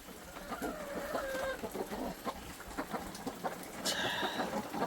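Chickens cluck close by in a busy, continuous stream as they are put into their coop, with a few higher squawks rising near the end.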